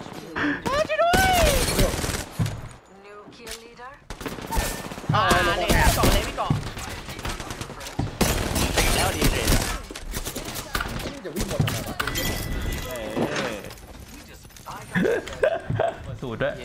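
Rapid bursts of automatic gunfire from a video game shootout crackle through loud overlapping bursts and single shots, with players talking excitedly over much of the action.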